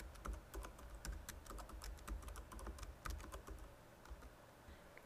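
Someone types an email address on a computer keyboard in a quiet room, a quick, steady run of soft key clicks lasting about five seconds.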